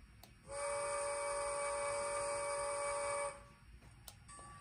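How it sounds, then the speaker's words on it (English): A model steam locomotive's small whistle blows one steady, bright tone for about three seconds over a soft hiss, with faint clicks before and after. "pulling some cars, and we can hear the whistle"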